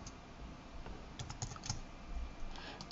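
Quiet keystrokes tap out a short word on a computer keyboard while a folder is named in video editing software. The clicks come in a loose cluster midway and again near the end, over low room hiss.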